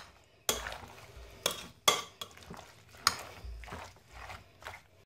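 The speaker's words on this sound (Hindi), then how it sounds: "बस अब इसको हम बहुत अच्छे तरीके से मिक्स कर लेते हैं।" Creamy fruit chaat being stirred with chaat masala, with several sharp, close scrapes and clinks of a spoon against a bowl between quieter mixing sounds.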